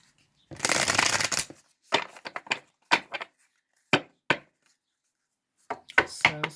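Tarot or oracle cards are riffled in one long, crisp shuffle, followed by a series of short taps and snaps as the deck is squared up and handled.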